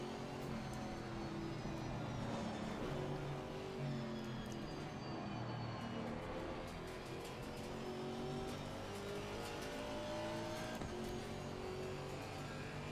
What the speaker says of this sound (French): Il va s'étouffer le moteur, hein,